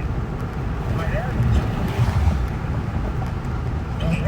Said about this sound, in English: it's kind of windy here in Roseville, so sorry